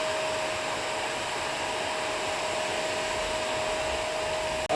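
A vacuum cleaner runs at a constant, steady whine with a strong high tone, moderately loud and unbroken, then cuts off abruptly at the end.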